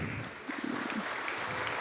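An audience at a ceremonial academy marking a 30th anniversary applauds a municipal representative, with a steady, moderately loud clapping throughout.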